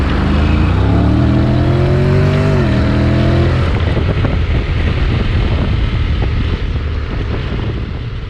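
A Honda X-ADV 750 scooter revs up and accelerates past a truck, the engine note climbing in pitch, then dissolving into strong wind rush and road roar as it speeds on.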